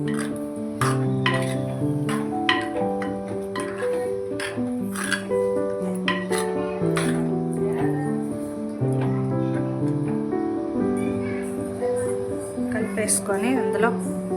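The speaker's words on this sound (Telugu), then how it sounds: "బాగా కలిపేసేయండి" Gongura chicken curry being stirred in a pan, with light scattered clinks and scrapes of a spoon against metal beneath steady background music and a voice speaking.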